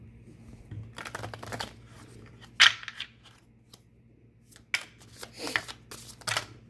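Brisk riffling and snapping of a tarot card deck being shuffled, in short bursts with quiet gaps between, close up.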